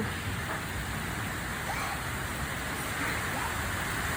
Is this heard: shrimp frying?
no